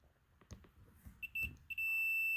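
A multimeter on continuity mode sounds a steady high electronic tone while testing a shop vac switch: a few short beeps, then one held beep, after some faint handling clicks nearby.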